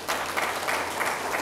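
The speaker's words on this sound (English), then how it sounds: "Let's welcome all our distinguished speakers with a loud applause." Brief, loud burst of audience applause welcoming distinguished speakers at the Bizcon 2018 business conference, steady crowd clapping throughout.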